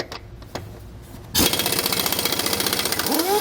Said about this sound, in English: If you don't have a large impact like this, many of these nuts are on extremely tight